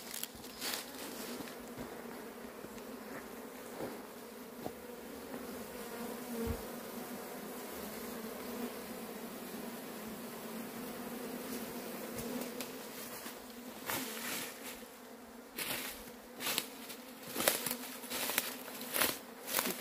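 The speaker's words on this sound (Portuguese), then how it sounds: "aqui fora tem muita abelha" Many honeybees buzz steadily around an open hive being tended at a home, a dense continuous drone with individual bees whining past close by and occasional handling knocks and rustles.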